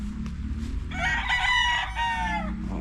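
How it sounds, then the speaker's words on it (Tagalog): A large six-month-old rooster crows loudly and close by, one long drawn-out cock-a-doodle-doo over a low background rumble. "Malaking manok to."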